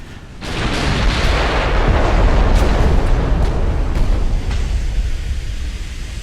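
Naval shellfire in the dreadnought-era battleship game Ultimate Admiral: Dreadnoughts, heard as a loud, sustained roaring rumble of shell impacts and gunfire with a few sharper cracks, and no talk over it.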